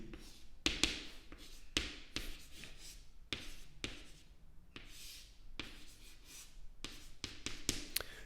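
Math being written out by hand on a French exam problem: a steady run of scratchy strokes and light taps from the writing tool, close and fairly quiet, with no talking.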